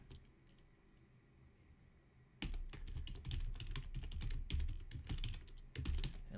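Computer keyboard typing while writing JavaScript code: after a quiet start, a steady run of close, fast key clicks and taps that continues to the end.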